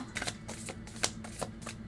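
Tarot cards shuffled by hand in soft, quick overhand slides, a steady papery rhythm of swishes, close up.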